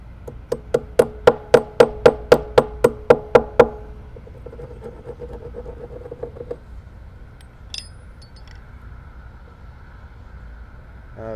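A cedar shim is hammered into a whiskey barrel at a small cooperage, about a dozen sharp, evenly spaced blows that ring loudly, then stop, leaving faint shop noise.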